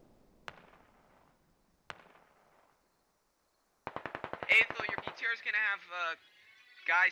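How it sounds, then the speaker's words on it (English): Mortar shells land in the Squad video game: two sharp distant blasts with fading rumble, a pause, then a rapid burst of crackling gunfire as voices talk over the action. "Grunt's fire team plus up here is getting mortared."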